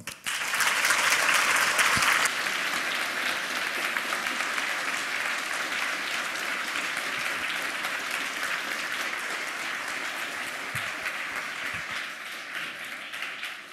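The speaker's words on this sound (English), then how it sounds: "A big applause." Sustained audience applause after a conference talk at 26C3, loudest in the opening two seconds and then settling into steady, even clapping from a large crowd that continues for about fourteen seconds.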